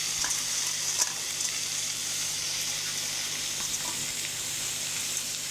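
Whole cardamom, cloves and cinnamon fry in hot oil for a chicken dish, a steady close sizzle with faint crackles and one small pop near the start, with no voices.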